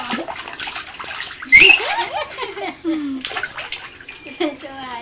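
A small child splashing in bath water in a basin tub, irregular splashes and sloshing mixed with kids' voices and adult chatter throughout, including a sharp louder splash early on.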